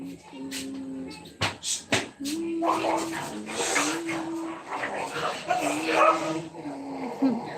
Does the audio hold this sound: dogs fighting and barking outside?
yes